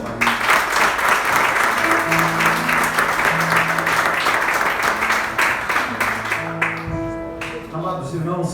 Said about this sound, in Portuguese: Vamos aplaudir novamente.